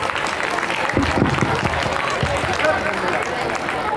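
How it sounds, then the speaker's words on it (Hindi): Applause and crowd noise at a stage performance, a dense wash of clapping with a murmur of voices and babble mixed in, steady and fairly loud throughout. "एक बार जोरदार तालियां"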